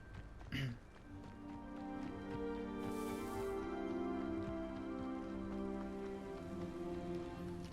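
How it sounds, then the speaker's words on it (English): Steady rain falls in the video game Hogwarts Legacy, a continuous dense patter over layered game music, with one sharp hit near the start and no talking. "Oh, it's raining."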